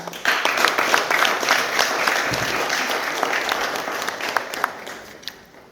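Wedding guests break into dense, sustained applause to acclaim the Lord, a full room of clapping hands that holds steady for several seconds before thinning out at the end.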